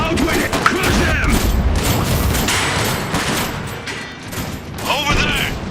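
Gunfire and mechanical clatter in the video game Iron Harvest, a dense battlefield mix of bursts and thuds mixed with shouted voices, steady and loud throughout.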